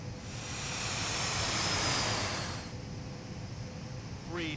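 An aircraft landing in the FSX flight simulator game gives off a steady broad engine and wind roar that swells, then drops sharply to a lower, quieter rumble, with a brief rising whine near the end.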